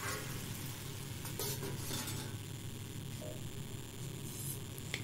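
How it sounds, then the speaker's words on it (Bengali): Pointed gourd (kakrol) frying with potato in a pan, a continuous low sizzle with occasional stirring scrapes and utensil knocks, steady and close, with no voices. "কাঁকরোল যেটা ভাজছিলাম"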